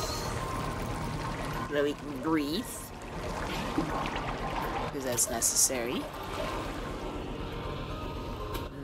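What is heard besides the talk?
water draining in video game Gori: Cuddly Carnage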